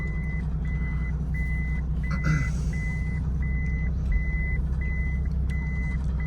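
A Toyota Land Cruiser HDJ81 in reverse sounds a regular, evenly spaced series of reversing beeps over its low, steady diesel idle, with a brief clunk partway through.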